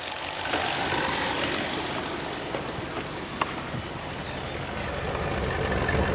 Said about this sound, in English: you can hear now it's idling just fine and dandy